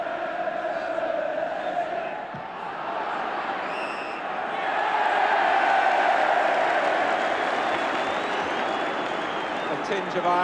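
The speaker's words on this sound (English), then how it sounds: "A tinge of irony about the cheering as Everton finally get a free kick" A football crowd at a European Cup Winners' Cup semi-final second leg, Everton against Bayern Munich, cheering as Everton win a free kick: a broad, sustained roar that swells and stays loud, with distant whistles and chants over a commentator's voice.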